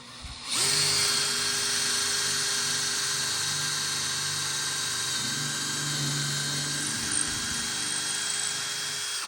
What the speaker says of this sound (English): as he pre-drilled for me